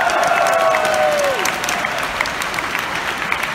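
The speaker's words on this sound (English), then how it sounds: "please give a big round of applause for Maddie Peters." A convention audience applauds steadily, a dense wash of many hands clapping at close range with a short tonal whistle-like sweep near the start.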